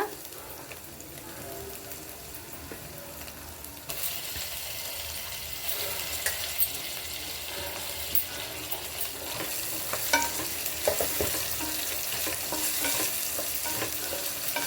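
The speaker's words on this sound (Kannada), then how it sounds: "ಇವಾಗ ಫ್ರೈ ಆಗಿದೆ ಫ್ರೆಂಡ್ ಟೊಮೊಟೊ ಹಾಕೋಣ ಈಗ" Tomato tips into a frying pan for coconut milk rice, and the soft sizzle swells into a louder, hissing fry with light stirring clicks, with no voices heard.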